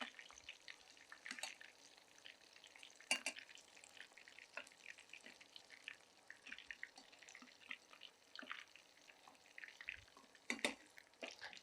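Prawn pakoda sizzles quietly in hot oil, a soft crackling bed with scattered sharper pops and spits, fairly faint and alone without talk.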